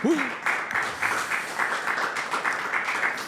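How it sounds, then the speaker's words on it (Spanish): A live audience at a Puerto Rican Christian radio station podcast applauds a guest, steady moderate clapping following a brief vocal cue at the start. "Señoras y señores, un fuerte aplauso para Hernán Pantoja, Mr. P."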